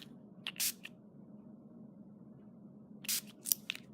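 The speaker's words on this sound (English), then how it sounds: "I might spray some of the sheen over it." Sheen is sprayed over a watercolor painting in two short bursts of hissing aerosol, one early and a double burst near the end. Both are close and crisp, with quiet room tone between them.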